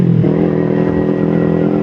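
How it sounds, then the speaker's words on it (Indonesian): A Kawasaki Ninja 250 Fi, a 250 cc two-cylinder motorcycle, runs rough with a steady, close engine drone and a slight shift in tone early on, heard alone without talk. "Penyebab mesin Ninja 250 Fi itu kasar"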